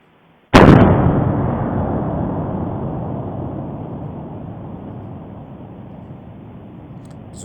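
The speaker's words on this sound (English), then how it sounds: "And then listen to this eruption." Popocatépetl volcano in Mexico erupts with a single sudden deep blast, followed by a long, loud rumbling roar that slowly fades over several seconds.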